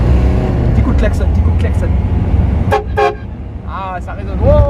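A Renault Clio 1 fitted with a train-style horn gives a couple of short, loud toots in a resonant street setting, with chatter before and after.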